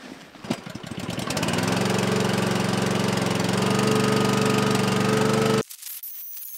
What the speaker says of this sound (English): The hydraulic power pack for the winch.